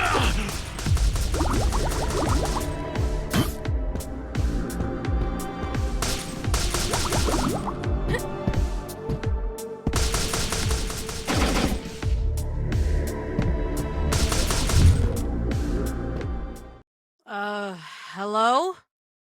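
Dense video-game gunfire from a sci-fi planet battle rattles in rapid, loud bursts with crashes and impacts layered over a soundtrack, then cuts off abruptly before a short stretch of processed, alien-sounding vocalization.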